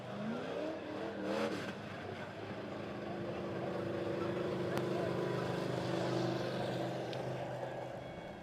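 Race cars at Monett Motor Speedway roar around the track, a sustained droning engine blare with passing swells from several cars at once, heard at a distance under a commentator's voice.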